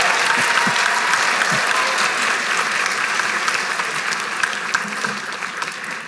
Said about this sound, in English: you can give them a round of applause for us.